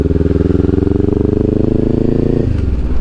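Engine of a Kawasaki Ninja 400 motorcycle running in high gear, a loud, close, steady pulsing drone heard from the rider's position, dropping in pitch near the end.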